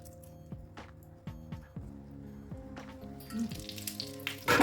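Oil sizzles steadily in a pan as pastries fry, with a constant crackling hiss, broken by a few soft clunks and scrapes, growing louder toward the end.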